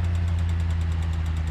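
A Sprinter van engine carrying a 2.5-ton load in BeamNG.drive runs with a steady low rumble and a rapid, even knocking pulse, constant and close throughout.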